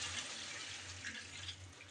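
Broth being poured into country chicken cooking in a pot, a soft continuous watery trickle and splash, quiet and brief, with no voices.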